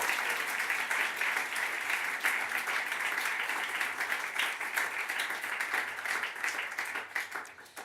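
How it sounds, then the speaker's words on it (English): Steady, dense applause from a sizable audience at a writers' festival program launch, many hands clapping continuously and fairly loud, tapering slightly near the end. "Give them a round of applause."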